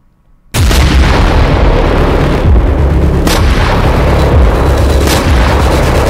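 Loud, continuous barrage of bomb blasts in Gaza, booming and rumbling without pause after a brief silent start, with sharper bursts cracking through near the middle and end.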